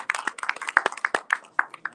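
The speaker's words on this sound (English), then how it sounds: "Let's give them a round of applause one more time" An audience at a community achievement award ceremony claps in a brisk run of uneven, fairly close hand claps lasting a couple of seconds.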